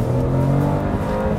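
A Hyundai HB20 with a 1.0 Turbo GDI engine revs hard and close with a steady, buzzing drone during a road test, heading toward a shift at 6000 rpm.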